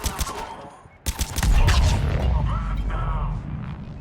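Gunfire erupts in Mass Effect 3 as defenders open fire on intruders, a rapid burst of shots and heavy thumps after a brief pause, loud and close, with voices speaking over parts of it.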